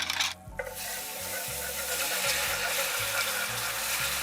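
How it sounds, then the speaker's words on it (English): Pasta sauce of pumpkin, sausage and Bolognese is whisked in a hot pan, giving a steady rhythmic scraping and swishing over a soft sizzle, close and fairly quiet. "I'm gonna keep whisking until everything is silky smooth"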